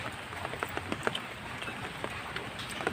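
Rain falls during outdoor cooking of lechon sisig, a steady soft patter with scattered sharper drops hitting a surface throughout.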